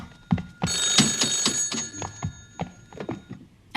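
An indoor telephone rings with a bright, repeated electronic trill in a few quick bursts, close and fairly loud, with light knocks and room sounds around it.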